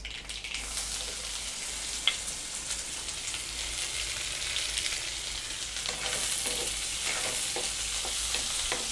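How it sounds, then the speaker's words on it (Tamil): Mustard seeds spluttering in hot oil while cooking prawn gravy, a continuous crackling sizzle with scattered small pops, close and steady throughout, no speech. "கடுகு நல்லா பொரிய ஆரம்பிச்சிருச்சு"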